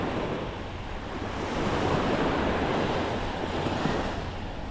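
Ocean surf washes steadily onto a beach, a continuous roar of breaking waves with some wind noise over the microphone.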